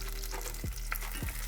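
Garlic fries in hot oil with a steady, close sizzle, while a utensil stirs and scrapes the pan twice.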